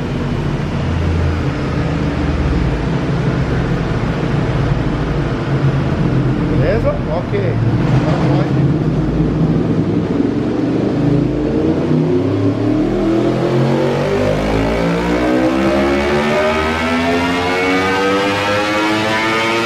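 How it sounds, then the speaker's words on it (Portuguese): A Yamaha R1 motorcycle at full throttle revs up hard, its pitch climbing steadily over a loud, continuous engine roar, with a brief burst of noise midway. "acelerando até o máximo"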